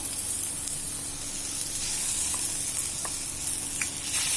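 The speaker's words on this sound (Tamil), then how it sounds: "இதை போட்டு வதக்கிக்கணும்" Two small tomatoes sauté in a hot pan, giving a steady sizzling hiss with a few faint stirring clicks, close and unbroken by speech.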